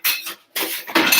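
A metal spoon clinks and scrapes against kitchenware in a few short bursts while tomato sauce is being cooked, with close, bright contacts separated by brief pauses.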